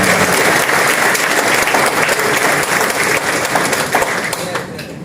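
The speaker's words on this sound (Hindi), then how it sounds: "तेज तालियां बनती है" A crowd at a welcome event for the Delhi mayor in Narela breaks into loud, sustained applause. The dense clapping runs the full length, with a few sharper claps standing out and some voices mixed in.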